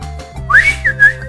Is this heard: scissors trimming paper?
no